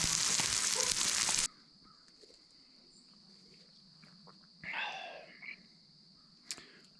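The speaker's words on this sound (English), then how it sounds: "Ooh, sizzle." Breakfast food sizzles loudly in a frying pan as a dense, close hiss for about a second and a half, then drops away to a quiet room with a faint steady high tone and a brief chirp.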